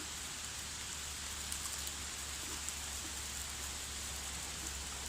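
Soft, steady rain patters with a faint hiss, fairly quiet, with no voices.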